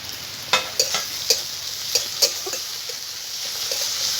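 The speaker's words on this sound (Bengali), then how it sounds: "একসঙ্গে আমি ভালো করে ভেজে নেব" Chopped green chilli and tomato masala with ginger and garlic frying in a pan, a steady soft sizzle broken by several sharp scrapes and stirring knocks spaced irregularly, close and moderately loud.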